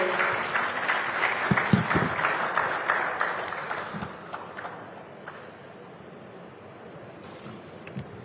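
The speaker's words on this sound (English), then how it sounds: "give a huge round of applause for all our panel guests here" Applause from the audience for the panel guests at the end of a climate summit session. Dense clapping fills the first four seconds and then thins into a few scattered claps that taper off.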